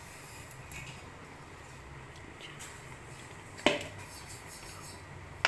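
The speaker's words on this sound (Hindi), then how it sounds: "थोड़ी देर मिक्स करके चलाओ" Mixed nuts being stirred into sugar syrup in a metal pan with a spoon, giving faint scraping and a few sharp clinks of utensil against pan over a quiet background.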